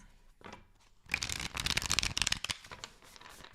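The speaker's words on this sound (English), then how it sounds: "All right, last shuffle for Cancers." A tarot deck is shuffled in one close, crisp riffle lasting about a second and a half, preceded by soft handling and fading into lighter card rustles.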